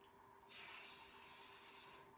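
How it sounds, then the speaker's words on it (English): Hairspray hisses from an aerosol can onto styled hair in one continuous burst of about one and a half seconds, close and fairly soft, with no talking over it. "Then we're going to get some hairspray"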